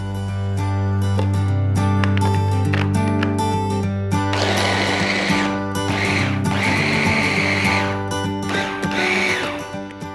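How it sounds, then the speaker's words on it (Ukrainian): A blender chops seasonal smoothie ingredients in a home kitchen, its motor running loud and steady with a tonal hum, then surging in several bursts as the blades grind through the contents. "Я думаю, що зараз я його подрібню блендером, а потім уже додам банани."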